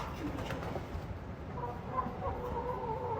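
Chickens peck at horse feed on a farm, soft clucks and low cooing sounds scattered over faint background rustle, quiet and close.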